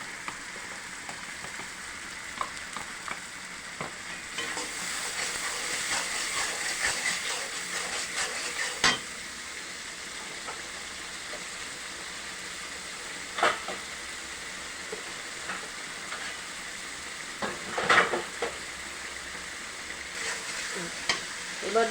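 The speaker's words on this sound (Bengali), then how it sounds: "দইটাও মশলার সাথে কষিয়ে নেব" Yogurt and spices sizzle and hiss in a pan, stir-fried with occasional scraping strokes of a spoon and sharper spatters now and then, all close and steady.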